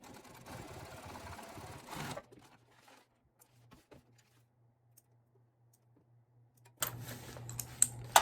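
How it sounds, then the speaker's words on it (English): A home sewing machine stitches fabric across the bottom of a trick-or-treat bag with a quarter-inch seam, a steady mechanical hum running for about two seconds, followed by quiet pauses and a second burst of stitching near the end. "And then you're just going to clip and sew it across the bottom."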